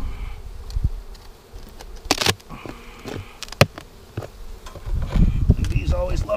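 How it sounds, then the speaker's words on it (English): Honey bees buzz loudly and continuously from an opened hive as the lid is pried off, swelling near the end, with scattered clicks and scraping knocks close by. "bees always love it when you pry off the lid"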